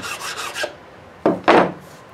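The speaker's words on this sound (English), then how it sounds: "since this is melamine, take my file" A hand file rasps along a melamine edge to bring it flush, with a burst of quick strokes, a pause, then two louder, longer strokes close by, no talk.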